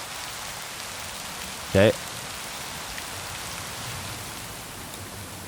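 Steady rain sound effect from the Krotos Studio Genesis sound pack, a constant even hiss of falling drops on a surface, with one brief spoken word cutting through partway.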